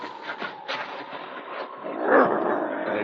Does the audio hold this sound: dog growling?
yes